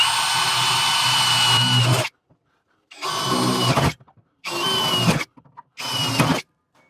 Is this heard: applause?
no